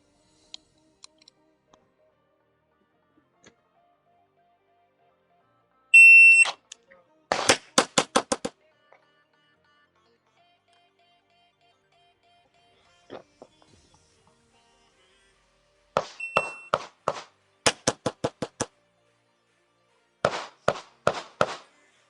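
A SIG GT5 pistol loaded with 124 grain rounds fires sharp, close shots in fast bursts of several rounds each, with pauses between the strings and quiet handling noises in the gaps.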